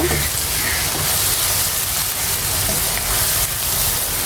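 Spices fry and get stirred in a pan for a prawn kofta curry, a loud, steady sizzling hiss that fills the whole stretch with no break.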